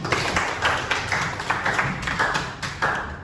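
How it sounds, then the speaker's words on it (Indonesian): Students in a classroom clap for their classmates, with a small group producing an uneven, rhythmic series of sharp claps, close by and moderately loud. "Tepuk tangan dulu untuk semuanya"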